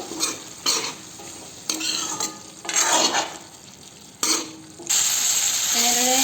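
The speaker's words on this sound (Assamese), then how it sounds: "মাজে মাজে ঢাকন খুলি এনেদৰে লৰাই থাকিব, নহ'লে লাগি ধৰিব।" A spoon stirs eel curry in a pot after hot water has gone in, scraping and sizzling in several bursts separated by short pauses, close up with no talking.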